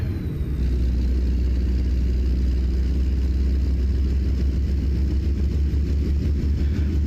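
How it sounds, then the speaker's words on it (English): A 625-horsepower Kenworth W900 truck engine in a truck driving game rumbles in a steady, loud, low drone throughout, with no talking over it. "Listen to that awesome sound of this truck."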